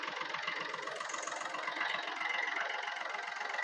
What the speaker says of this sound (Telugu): ఇంజన్ చాలా సైలెంట్ ఉంది